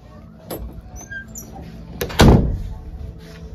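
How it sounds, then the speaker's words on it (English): Bedroom doors close inside a house: a light knock early on, then a louder thud with a rattling tail as a door shuts, over quiet room noise. "so I better close my bedroom doors."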